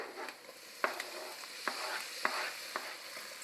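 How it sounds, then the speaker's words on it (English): Bacon sizzles and fries in a pan with sautéing onion, a steady crackle broken by several sharp stirring scrapes at regular intervals, close and clear with no talk. "we're gonna add the bacon"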